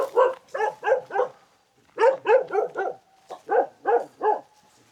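Several dogs penned on a remote mountaintop farm in China bark in rapid clusters of three or four sharp, loud barks, with short pauses between the volleys and no talk over them.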